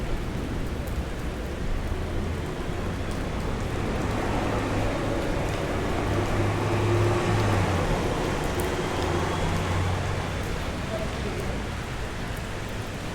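Steady rain falling in a city street neighborhood as Tropical Storm Hilary arrives in Southern California, a continuous broadband hiss with low traffic rumble beneath, even and unbroken throughout.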